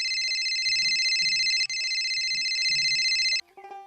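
A phone ringtone rings loudly and steadily for about three and a half seconds, its bright tonal pattern holding over low mumbled talk underneath, then it cuts off abruptly when answered.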